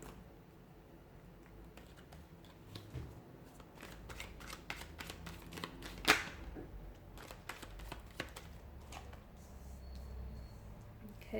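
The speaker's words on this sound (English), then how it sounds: "give the cards a shuffle and begin." Tarot cards shuffled by hand in a steady run of soft riffling flicks, close and fairly quiet, with one sharper snap partway through and no talking.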